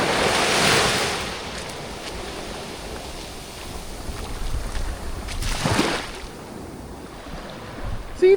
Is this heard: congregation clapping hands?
no